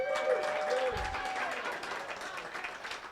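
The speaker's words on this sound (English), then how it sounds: "Give him a big round of applause." Comedy club audience clapping for a cast member in a crowded room, a brisk even burst of applause that holds steady, with a voice and some chatter mixed in beneath.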